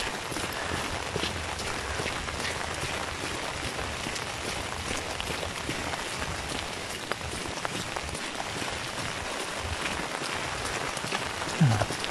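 Steady rain falls outdoors around Birkensee lake near Röthenbach, Germany, a dense even hiss of drops on surfaces with no talk over it.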